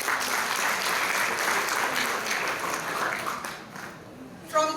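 Conference audience giving a warm round of applause at an international conference on food, environment and culture; dense sustained clapping that tapers toward the end, with a brief louder sound at the close.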